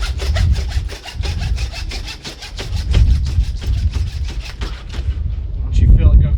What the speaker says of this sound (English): Use our meat saw.